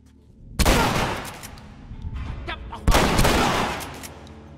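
Two loud, sharp bursts of gunfire in The Last of Us Remastered roughly two seconds apart, each trailing into a rumbling echo, with softer clatter between them.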